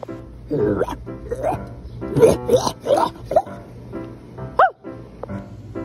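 A voice imitates a dog, giving a run of high yips and barks and a rising whimper in quick irregular bursts, close and fairly loud.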